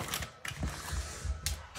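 A home vacuum sealer bought at Walmart works on a bag of Filipino food, giving off close mechanical whirring and ratchety clicks in uneven bursts, with no voices over it.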